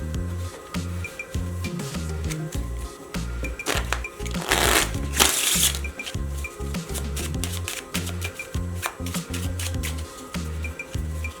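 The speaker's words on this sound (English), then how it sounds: "I'm going to take any deck of cards and shuffle it the best way I know how" A deck of playing cards being shuffled repeatedly, with rapid crisp riffling flutters and snapping clatter in steady bursts, close and loud, with a sharper noisy flourish midway and no talking.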